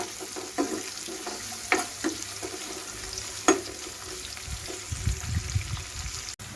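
Curry leaves hit hot oil for a prawn curry, with a quiet crackling sizzle, scattered sharp pops and stirring scrapes near the end, and no voices.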